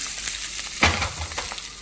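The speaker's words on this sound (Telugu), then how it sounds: "ఇది చక్క తాలింపు రెడీ అయిపోయింది" A tempering for coriander and ridge gourd peel chutney with tamarind sizzles softly in hot oil. A sharp metallic clink from a utensil sounds briefly partway through.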